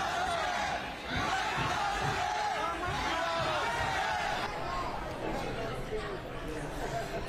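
A crowd of protesters shouts and clamors during someone's speech at a California primary election event, a dense, continuous roar of raised voices and chatter that stays loud throughout.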